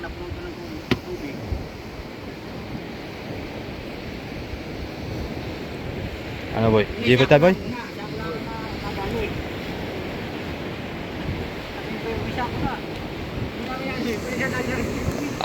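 Rough sea surges and washes beside a boat with a blocked propeller, a continuous roar of waves and buffeting wind on the microphone with a louder splash midway, while someone talks briefly.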